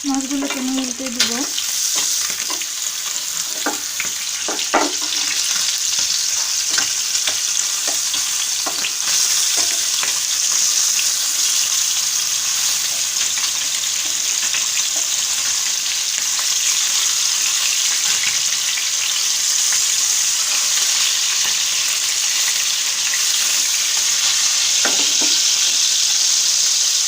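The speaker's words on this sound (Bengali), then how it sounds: "ইলিশ মাছগুলো আমার ভাজা হয়ে গেছে।" Hilsa fish pieces fry in hot oil with a steady, loud sizzle throughout, while scattered clicks and scrapes mark the pieces being turned in the pan.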